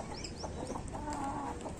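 Hens cluck and fuss nearby as they are herded inside a farmyard coop, a steady run of short clucks with a rooster-like call mixed in, no speech over it.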